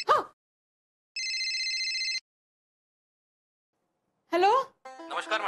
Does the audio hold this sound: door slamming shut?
no